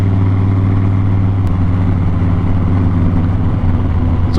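A steady, loud engine drone from a Harley-Davidson Crossbones and a Honda CBR600RR out on a ride, continuous and close with a constant low rumble and no break.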